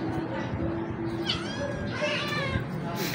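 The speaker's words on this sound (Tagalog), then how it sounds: "So yun mga pusa ko" Pet cats meow several times in a row, rising and wavering cries close by over steady background noise, with people talking nearby.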